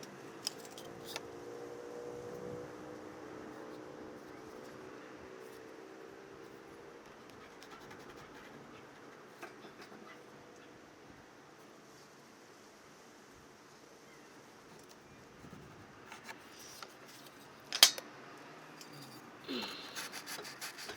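Fresh sandpaper on double-sided tape rubbing the wood of an Epiphone guitar headstock: a faint, steady scraping that runs almost the whole time, close by and alone, with a few light knocks near the end.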